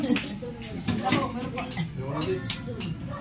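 Metal cooking pot clattering and knocking as it is handled, with clinks of cutlery nearby, close and fairly loud under ongoing conversation in Tagalog.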